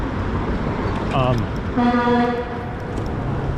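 Car horns honk twice in bursts on Sixth Avenue in New York City, first a short toot then a longer blare, over a steady wash of road traffic noise.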